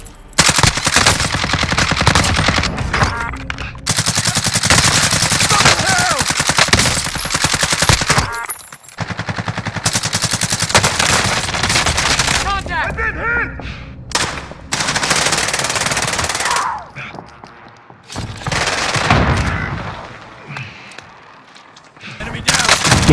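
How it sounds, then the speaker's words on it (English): Rapid automatic gunfire from Call of Duty Warzone, with loud sustained bursts and volleys filling most of the stretch, broken by short pauses and overlapping with voices speaking. "Now he's shooting from the other direction."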